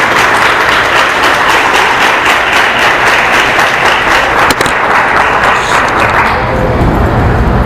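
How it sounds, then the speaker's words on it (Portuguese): Church congregation applauding at a Pentecost Mass, loud and steady clapping from a large crowd filling the room, gradually thinning in the final seconds. "Vamos aplaudir a palavra de Deus."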